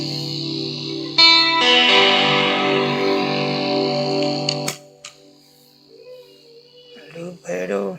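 A sustained, heavily distorted electric guitar chord through a Donner Blue Drive overdrive pedal rings out loudly, then cuts off, followed by brief talking.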